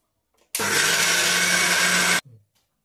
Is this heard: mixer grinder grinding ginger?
yes